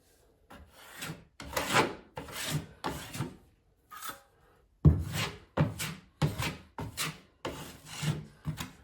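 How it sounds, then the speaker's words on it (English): A taping knife spreads setting-type joint compound over drywall tape, a series of scraping, rasping strokes, about ten of them, each roughly half a second long with short pauses between, close and alone. "I'm just going to take a little bit more of the setting compound and just conceal it a little bit, just to start blending it in"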